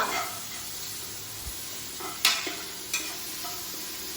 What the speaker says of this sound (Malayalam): ഇത് ഇളക്കുന്നു അങ്ങോട്ടും ഇങ്ങോട്ടും